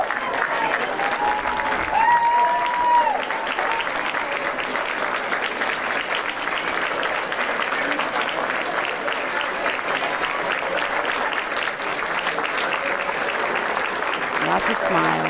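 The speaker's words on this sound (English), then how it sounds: "please give a big round of applause for both teams" Crowd applause for both teams after the 2018 IAAM C Conference girls' lacrosse championship final, a steady, dense wash of clapping that holds evenly for about fifteen seconds, with a few faint whoops near the start and no one speaking.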